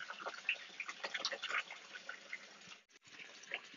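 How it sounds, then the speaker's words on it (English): Water drains through an aquaponic bell siphon with a faint, bubbling, gurgling trickle that breaks off briefly near the end before resuming, quiet and close, with no voices. "The siphon has started once the water becomes almost vertical flow and doesn't present these wobbles."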